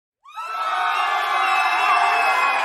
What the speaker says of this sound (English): And you play a show to a sold-out crowd.